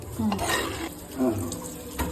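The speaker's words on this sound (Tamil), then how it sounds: "பாத்திரம் எல்லாம் கழுவி வச்சுல" Tap water runs into a kitchen sink while dishes are washed after cooking, a soft steady splash with light clinks of pots, fairly quiet.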